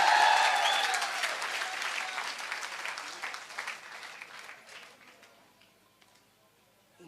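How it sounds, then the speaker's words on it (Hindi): Audience applause at a Safeshop leaders' event, loud and dense at first, then thinning and fading over several seconds to near silence. "एक बार जोरदार ताली"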